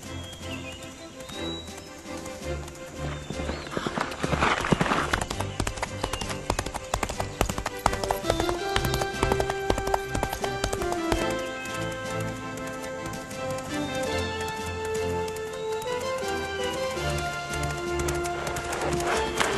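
A magical steed carries a prince off at a gallop in a Romanian fairy tale, its hooves clip-clopping steadily under layered orchestral music, with a horse whinnying now and then.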